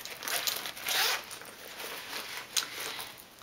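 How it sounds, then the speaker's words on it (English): A bag zipper is pulled open in a few quick rasping strokes, close and fairly loud, with no voices. "Then the biggest pocket is the zipper here"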